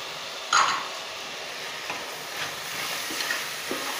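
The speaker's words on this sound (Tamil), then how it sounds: "இதை நல்லா அப்படியே கலந்து விடணும்." A spoon stirs rice with cinnamon powder in a pot for coconut milk rice, giving soft scraping strokes over a steady low hiss, close by with no talk.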